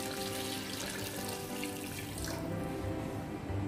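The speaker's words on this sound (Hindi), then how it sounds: "अंदाजे से हम तकरीबन अभी 3 कप के करीब पानी ऐड करेंगे" About three cups of water pour in a steady, rushing stream into a pot of mutton yakhni for pulao, close and continuous with a slight change in tone partway through; no one speaks.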